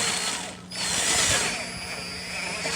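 A power tool runs in steady bursts while snugging a wheel bolt on a Toyota Prius during rear brake work, its buzzing whir close and loud with a brief pause early on, no talk.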